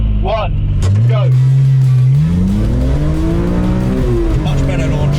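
A BMW E46 M3 launching hard from the start line on a track, engine revving up through rising gear pulls with tire squeal, loud and close, as a voice talks over it.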